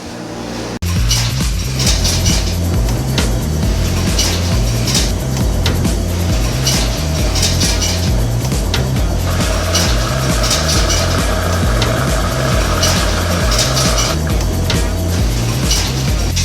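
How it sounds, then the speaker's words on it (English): A loud blower motor on a Speed Queen 30lb stack dryer in a laundromat, vibrating badly, drones and rattles continuously with a rough, rhythmic vibration, close up, with a faint higher whine joining partway through. "That is a blower motor vibrating. That is way too much noise."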